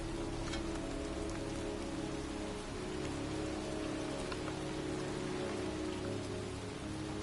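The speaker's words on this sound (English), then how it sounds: "It's raining." Steady, heavy rain pours down in the cemetery scene of the video game Heavy Rain, a dense continuous hiss with a low droning ambience beneath and no voices.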